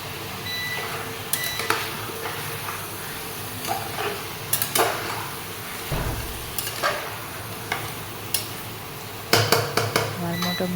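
Chicken pieces stirred and seared in a pot for a coriander chicken bhuna, with metal utensil scrapes and clanks against the pot over a steady low sizzle, sharper knocks coming in bursts near the end.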